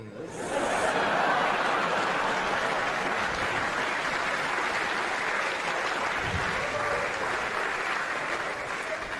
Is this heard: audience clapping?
yes